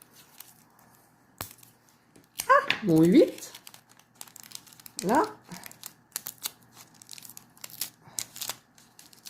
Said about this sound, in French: je vais fermer aussi avec du scotch